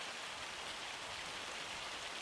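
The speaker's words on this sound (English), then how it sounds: "It actually looks like hail. It hails a lot around here." Hail falls as a steady, dense hiss of pellets striking surfaces on a farm, continuous and even throughout with no voices.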